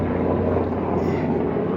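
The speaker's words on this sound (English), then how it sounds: "Sorry for the helicopter noise. I got a Black Hawk flying overhead." A steady low rumbling drone of a Black Hawk helicopter overhead fills the whole moment, constant and fairly loud with a wind-like wash.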